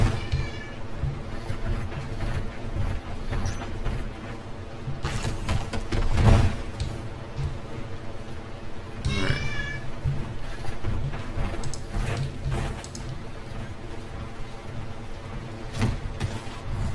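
A domestic cat meows a few times, faint and spread out, with one clearer meow near the middle, under a constant low hum of game music and background noise.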